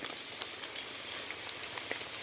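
Faint, steady rain patters softly, with scattered drops ticking sharply against the hiss.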